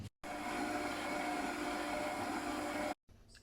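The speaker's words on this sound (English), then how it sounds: "I feel like this Kmart mixer has tried its absolute hardest and it's done a decent job" A Kmart electric kitchen mixer runs in a steady, whirring drone with a constant pitched hum, switching on abruptly and cutting off cleanly after about three seconds, close and moderately loud with no voices.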